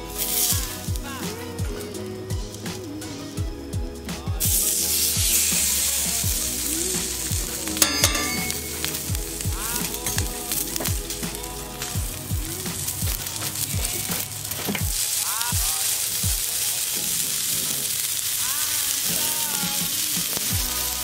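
Ahi tuna steaks sear in oil with a little soy sauce on a 22-inch Blackstone griddle, a loud close sizzle and hiss running throughout, with scraping and clattering of a spatula and brief talk.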